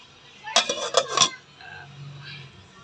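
A metal lid is set onto a cooking pot of plain vegetable broth, giving a short cluster of near, bright clinks and clatters over about a second, then quiet kitchen background.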